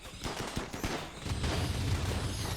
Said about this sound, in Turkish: Hemen kurşun yağmuru